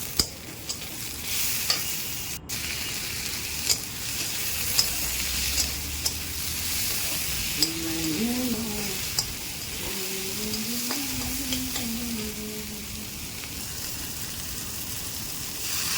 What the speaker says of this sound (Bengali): কেটে রাখা কিছু টমেটো দিয়ে দেবো, দিয়ে নাড়তে থাকবো।